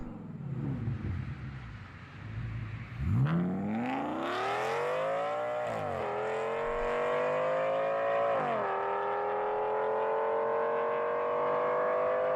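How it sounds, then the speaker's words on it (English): An Audi C6 S6 engine with exhaust headers revs up hard from idle, rising in pitch through a few gear shifts, loud and close with a raspy exhaust note. "So this one has headers."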